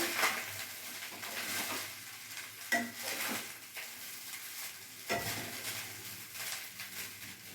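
Fried rice dusted with ground pepper is stirred in a pan, a quiet continuous sizzle broken by several spatula scrapes and soft knocks against the metal.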